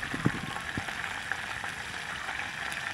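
A steady hiss of oil sizzling, broken by occasional sharp pops and crackles, with no talking.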